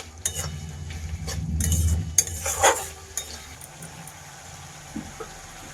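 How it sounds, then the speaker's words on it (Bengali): A cook stirs turmeric, cumin and chili powder into a pan of frying spice for a Bengali rui fish curry, giving low scraping and a few clinks of a utensil against metal, with faint sizzling underneath. "হলুদ গুঁড়ো, জিরে গুঁড়ো আর লঙ্কা গুঁড়ো, সেটা আমি এখন এড করে দিচ্ছি। দিয়ে আবার কিছুক্ষণ নাড়াচাড়া করবো।"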